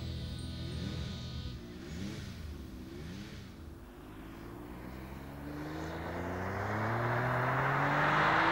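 A 1995 twin-turbo supercar with 552 horsepower accelerates hard, its engine note climbing steadily through the gears and growing louder toward the end, with no talking.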